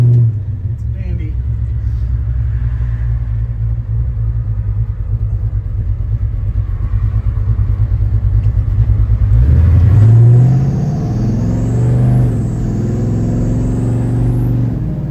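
A restored 1966 Chevrolet C10 stepside truck drives in traffic with a steady, loud engine rumble. Around ten seconds in, a rising whine swells and then holds as the truck accelerates, while a person speaks over the engine.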